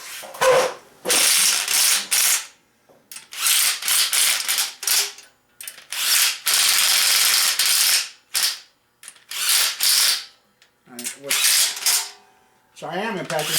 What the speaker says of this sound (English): so I am impacting it, but I'm just running it down so I don't have to sit here and ratchet forever